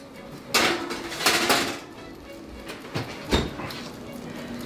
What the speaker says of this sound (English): I'm going to put the asparagus into the oven now on 450.